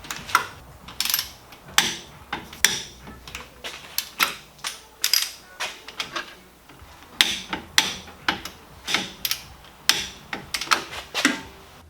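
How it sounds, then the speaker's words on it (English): A torque wrench ratchets steadily while bolts on a 1987 Toyota under rebuild are tightened to spec, producing close, crisp clicking strokes in short rhythmic bursts with brief pauses, and no talk. "Now I gotta torque these up to 51 foot-pounds."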